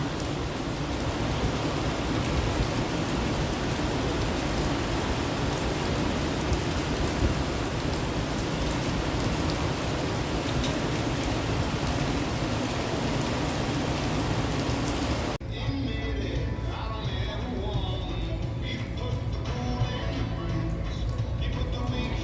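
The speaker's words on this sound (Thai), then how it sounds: "ฝนตกแดด" Rain falls steadily at a beach camp during a sun shower, a dense close patter on surfaces that runs unbroken, then drops abruptly to a lighter, sparser drizzle near the end.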